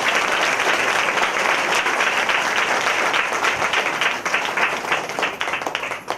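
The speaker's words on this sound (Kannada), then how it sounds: "ದೇವ್ರ ನಾಮಕ್ಕೆ ಜೋರಾಗಿ ಚಪ್ಪಾಳೆ ತಟ್ಟೋಣ" A church congregation at a Sunday service claps loudly and steadily, a dense, continuous wall of applause that holds for several seconds before thinning slightly toward the end.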